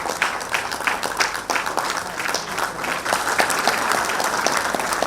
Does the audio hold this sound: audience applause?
yes